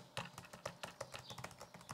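Fast, even keystrokes on the keyboard of an Asus Zenbook 14X Space Edition laptop, a close, crisp run of light taps in steady rhythm with nothing else over them.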